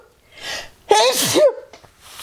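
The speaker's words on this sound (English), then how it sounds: "Sorry, I have to sneeze." A single close, loud sneeze with a sharp intake and burst, standing alone between quiet stretches in an indoor setting.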